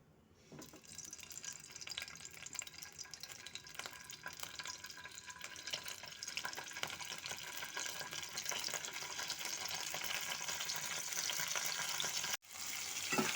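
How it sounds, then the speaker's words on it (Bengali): Paneer frying in a mix of oil and ghee, a dense hissing sizzle that starts quietly and builds louder, steady and close, with a brief break near the end and no speech. "পনিরটাকে আমি হালকা করে একটু ভেজে নিয়েছি তেল আর ঘিয়ের মধ্যে।"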